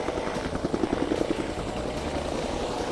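A Dominican Air Force helicopter escorting the president's arrival at dusty Valle Nuevo, Constanza, gives a loud, close, rapid rotor thump that pulses steadily throughout without voices.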